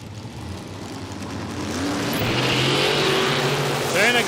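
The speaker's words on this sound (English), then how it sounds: "the first of our funny cars start up for the weekend. The Stormtrooper, they're doing their warm-up over there at the moment. You can hear the car, no doubt." A nitro funny car engine warming up in the pits at Palmyra Dragway, a distant, rising mechanical roar heard beneath a commentator's voice, growing louder toward the end.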